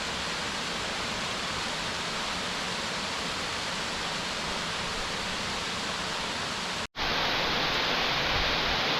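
The Yonghwa and Yongson waterfalls in Seoraksan National Park, South Korea, produce a dense, unbroken roar of falling water. The sound cuts out briefly near the end, then resumes.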